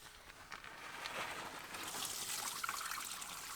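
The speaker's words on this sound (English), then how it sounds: "Then I pour the perfectly hot water into the shower basin." Hot water poured into a wooden shower basin inside a van, a steady broadband splashing trickle that builds slightly louder and continues throughout, close and alone.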